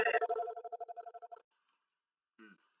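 A telephone rings during a live studio show at a raceway, a rapid pulsing electronic trill lasting just over a second, then silence before a short faint burst, with no talk over it.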